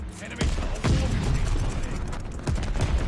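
Rapid SMG gunfire in Call of Duty Vanguard, loud, dense bursts with sharp repeated cracks over a busy game mix, voices and effects blending underneath.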